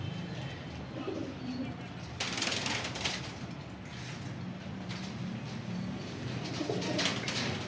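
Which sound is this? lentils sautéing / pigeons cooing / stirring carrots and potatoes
pigeons cooing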